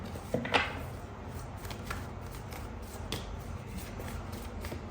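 Tarot cards riffled and shuffled by hand for drawing a single card, a quick burst of papery flicks early on followed by softer intermittent card handling, close and quiet with no talk.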